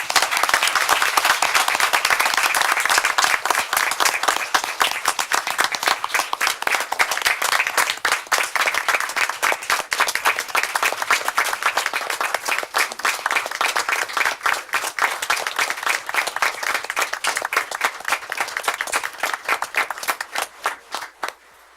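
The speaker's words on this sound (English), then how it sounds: "Let's give them another round of applause." Audience at a community meeting breaks into sustained applause, dense steady clapping from many hands that carries on for about twenty seconds before tapering off at the end.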